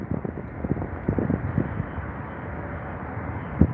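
An airliner takes off at London Heathrow, its muffled engine roar rumbling low and steady with a few heavier thumps.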